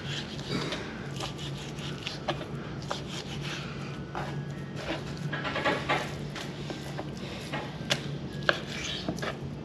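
A knife chops a redfish fillet into strips on a cutting board, with repeated sharp, close knife strikes in an irregular rhythm over a steady background hum.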